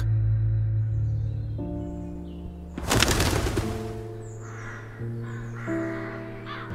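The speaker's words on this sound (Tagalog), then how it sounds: "tumambad ang matinis at paos na huni ng isang uwak" A large crow gives harsh, hoarse caws overhead, with a burst of wing flapping in the middle as it circles, the calls loud and near against a droning background.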